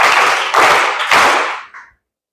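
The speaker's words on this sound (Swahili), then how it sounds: "Naomba tuwapigie makofi matatu ya nguvu." Three strong rounds of clapping from an audience at a seminary graduation ceremony, each a short burst of many hands that fades out quickly, with nothing else heard.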